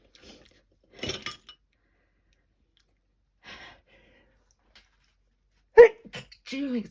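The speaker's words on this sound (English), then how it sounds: "Oh, gonna sneeze again." A sudden sneeze from someone with hay fever, a sharp close burst after quiet moments with faint rustling, followed by a voice starting to speak.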